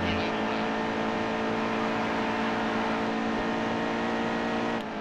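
Race cars roar continuously in the NASCAR Heat 2 video game, a dense, steady engine drone with layered revving close up throughout, with no talk over it.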